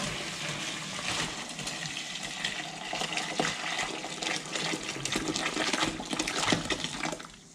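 Broth pours into jars in a home kitchen, a steady splashing liquid stream that runs continuously for several seconds, close and fairly full, with no talking over it.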